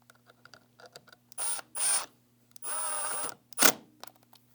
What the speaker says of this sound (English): Then we take our screw and set it right in there, and we'll go ahead and tighten it down.